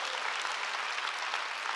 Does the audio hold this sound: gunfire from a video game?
no